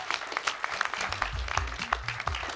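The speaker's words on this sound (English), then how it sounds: "Another round of applause," Audience applause at a doctoral research presentation event, steady dense clapping from a crowd in a hall, moderately loud and continuous throughout.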